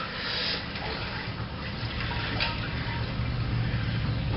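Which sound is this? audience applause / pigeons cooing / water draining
water draining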